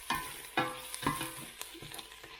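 Leeks, onions and garlic sautéing in a pan for salmon chowder, a steady close sizzle broken by several sharp scraping stirs at an uneven rhythm, with no voices.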